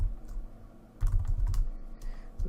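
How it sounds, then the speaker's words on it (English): Keys clatter on a computer keyboard as a display name is typed, a few short bursts of clicks over a low background hum, with no one talking. "then we just have to type in a display name so that I can see who's coming"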